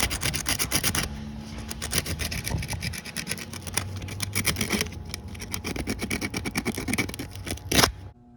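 Wire connection on a coil pack of an SN95 Mustang GT being scrubbed clean, a steady close rasping and rubbing in quick repeated strokes that runs the whole time, with a sharper scrape near the end.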